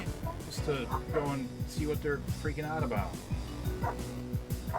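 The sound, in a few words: dogs barking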